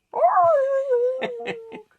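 A person imitates coyotes howling: one long, sliding howl that tapers off, then three short yipping barks. It is close and clear, with no other sounds.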